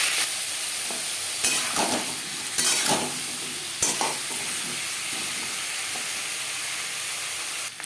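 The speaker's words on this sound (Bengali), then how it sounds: "তেল গরম হয়ে গেছে, দিয়ে দেবো আলু।" Potatoes sizzle in hot refined oil in a pan, a steady broad frying hiss broken by several louder bursts as they are stirred, close and alone with no talk.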